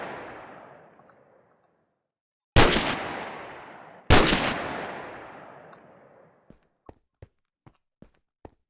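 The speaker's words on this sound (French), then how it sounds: "On va l'allumer. Boum! Une balle dans la tête." Two loud, sharp gunshots in a video game jewellery heist, each followed by a long decaying echo, then a run of quick, evenly spaced clicks or footstep-like taps trailing off.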